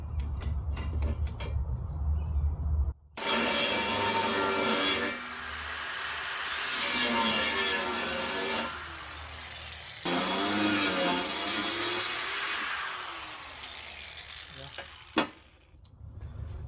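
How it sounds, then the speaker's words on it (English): An angle grinder's disc cuts through steel on a smoker build in bursts, a harsh, loud screeching rasp broken by short pauses and pitch drops as the worn disc bogs in the metal. "Gonna see if I have enough grinding disc left on this one to make my way through it."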